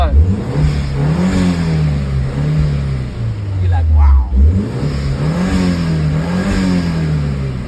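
A 1.8L turbo engine in an Audi TT Mk1 revs after a repair, its loud drone rising and falling through several close blips, with someone talking over it.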